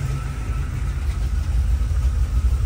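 GM Performance Crate 350 V8 idling at about 780 rpm, a steady, loud low rumble with an even pulsing throb throughout.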